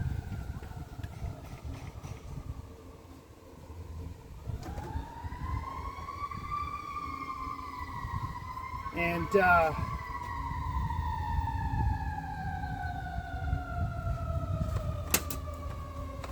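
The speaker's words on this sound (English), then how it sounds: "A lot of sirens." Emergency vehicle sirens wail from a distance, rising in pitch and then sliding slowly downward as they pass, with a brief horn-like burst partway through over a low background rumble.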